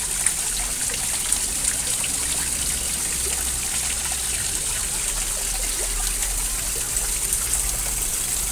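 A stream of water flowing near a large balete tree in Lou Lim Ieoc garden, Macau, makes a steady trickling wash with a low rumble, continuous and fairly close, with no talk over it.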